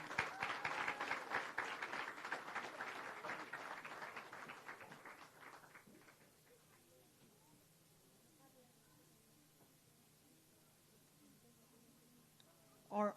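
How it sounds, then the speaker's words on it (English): Students are applauded at a reforestation launch event with a full round of audience clapping that tapers off after about six seconds, leaving quiet murmurs and faint speech. "We can give them another round of applause."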